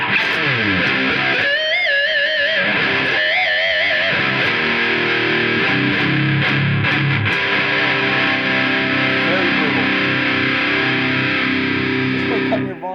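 Heavily distorted electric guitar plays loud, sustained chords and bends through a Boss Katana 50 amplifier, thick and buzzing throughout.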